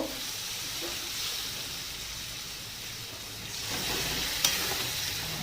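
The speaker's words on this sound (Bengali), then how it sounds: "আর একটু জল অ্যাড করব।" Water is added to a hot pan of vegetarian drumstick curry, and a continuous close frying hiss swells louder partway through, with light stirring and no talking.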